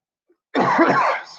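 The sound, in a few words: cough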